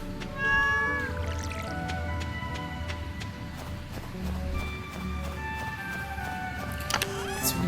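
A cat meows in the video game Stardew Valley, clear repeated cries over a busy farm soundscape with clip-clopping and ticking game effects.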